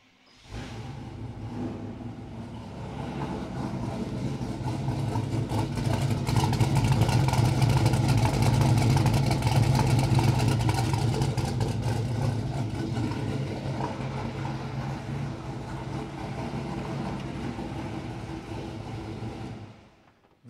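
A well-built small-block V8 with an upgraded cam in a four-wheel-drive Chevrolet squarebody short-bed truck cranks over, catches and settles into a lumpy, rumbling idle, with the revs swelling midway before easing back down.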